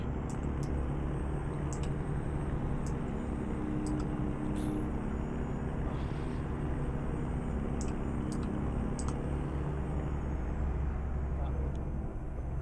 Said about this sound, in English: they sound more like marine engines than truck engines